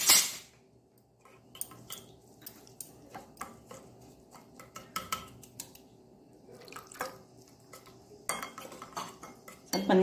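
Rava semolina mixed with water in a bowl for mini dosa batter, a spoon scraping and clinking against the bowl in irregular strokes, close and moderately loud, with no talk.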